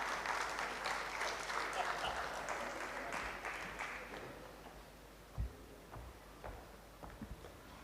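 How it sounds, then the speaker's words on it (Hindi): Audience applause at a tribute event held by an arts council in Karachi, moderately loud clapping that fades out midway, leaving a few scattered taps and footsteps in a quiet hall. "बहुत सारी तालियां"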